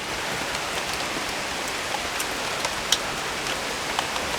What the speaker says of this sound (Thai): ตอนนี้ฝนตกหนักแล้วครับ